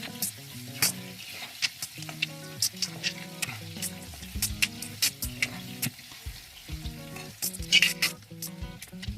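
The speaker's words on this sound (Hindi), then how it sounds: "गोल्डन कलर आने से आलू फ्राई इतना ही कीजिएगा" Potatoes frying in oil until golden, a steady close sizzle with crackles and pops, under background music.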